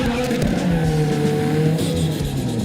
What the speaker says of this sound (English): We're literally just doing donuts right now so that people think it's over and go home.